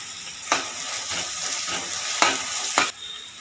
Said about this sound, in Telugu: ఈ ఉల్లిపాయలు కొద్దిగా వేగుతుండగా ఈ పచ్చిమిరపకాయ ముక్కలు అందులో వేసేసుకోండి.